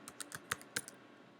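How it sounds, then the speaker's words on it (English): Quiet, quick keystrokes on a computer keyboard, six or seven crisp clicks tapped in an uneven rhythm, close and soft with no talking. "I'm going to just type this kind of small"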